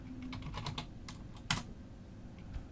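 Typing on a computer keyboard to filter a list in a betting portal, a quick burst of key clicks early on followed by a single louder tap, close and clear with no voices.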